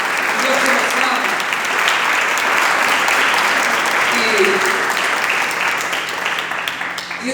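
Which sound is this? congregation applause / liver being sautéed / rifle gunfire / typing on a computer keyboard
congregation applause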